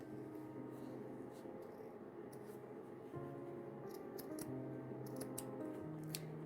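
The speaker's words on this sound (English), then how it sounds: "I will just cut this part right there." Scissors snip through packaging material for a junk journal cover, a run of crisp close cuts in uneven rhythm over a low steady background hum, with no talking.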